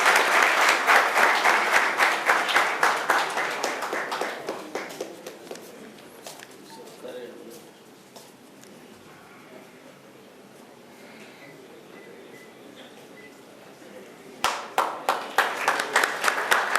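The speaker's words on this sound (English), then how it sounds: "So big round of applause for all who have participated." Audience applause at a conference award ceremony, loud dense clapping that fades to a low murmur around the middle and then swells again into a fresh burst near the end.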